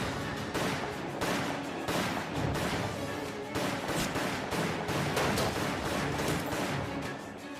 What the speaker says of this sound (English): Just enough time for Coons to return fire.